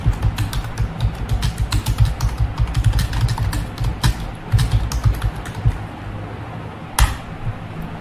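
Numbers typed on a computer keyboard: rapid, close, clattering keystrokes in an uneven stream for several seconds, with a louder single key strike near the end.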